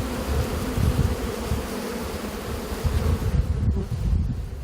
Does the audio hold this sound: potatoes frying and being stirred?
no